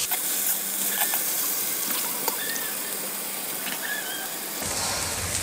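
Bay leaves and panch phoron five-spice fry in hot oil with a steady, faint hiss and scattered small crackles and pops, close by and without talk.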